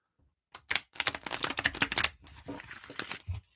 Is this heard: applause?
no